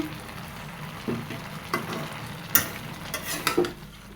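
Pumpkin greens and their tender stems cook uncovered in a pan, with a low steady sizzle and a scattering of spatula knocks and light utensil clinks, busiest near the end. No voices.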